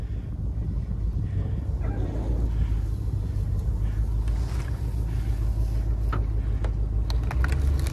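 A vehicle engine rumbles steadily at low pitch while driving forward to haul a cut log on a rope during wood cutting, constant and fairly close, with wind buffeting and a few brief voices.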